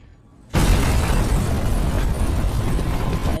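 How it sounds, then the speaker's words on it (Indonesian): A C5 bomb goes off inside a building in a zombie action film, bursting out of near quiet into a heavy, roaring blast that keeps rumbling loudly afterward. "Frederick tak sengaja menginjak bom C5."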